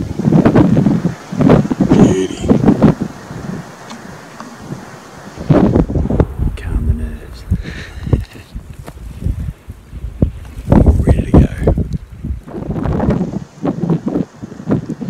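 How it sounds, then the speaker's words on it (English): Gusty wind of 10 mph or more buffets loudly in bursts in New Zealand high country, rising and falling with rushing noise, close and dominant, with brief quieter lulls between gusts. "it's relatively windy, 10 mile an hour plus wind"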